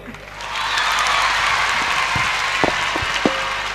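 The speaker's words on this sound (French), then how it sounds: "On l'applaudit encore, le candidat numéro 2" Applause rises from an audience at a spelling bee elimination round in Bamako, steady and dense for several seconds, with a few sharper isolated claps standing out near the end.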